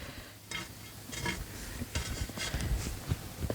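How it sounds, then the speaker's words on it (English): Scraping back the top layer of mulch in a garden bed by hand, a string of dry, rustling scuffs and crunchy scratches repeating irregularly, close up with no talking. "I simply just scrape back the top of the mulch"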